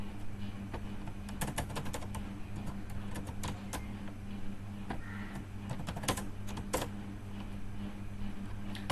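Python code is typed on a computer keyboard as quiet, irregular clicks and taps, close but faint, scattered over a low steady background hum.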